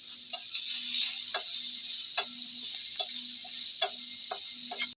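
Onions frying in a pan: a steady, bright sizzle runs throughout, broken by light, evenly spaced clicks as the pan is worked, with no voices.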